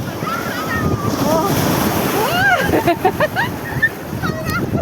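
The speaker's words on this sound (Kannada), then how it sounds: "ಇದು ದೊಡ್ಡ ಅಲೆ ಬರ್ತಾ ಇದೆ ನೋಡಿ ವೇವ್ಸು" Loud surf rushes and crashes at Diu Beach in a steady wash of water noise, with wind buffeting the microphone and excited voices talking over it.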